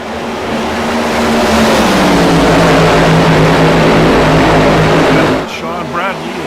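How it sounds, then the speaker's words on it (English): Race cars in a championship series event at a Texas speedway roar past together, a loud sustained engine drone swelling and sliding in pitch, then cutting back abruptly as the pack passes. "Let's crank it up and have a listen to these cars for the first couple laps."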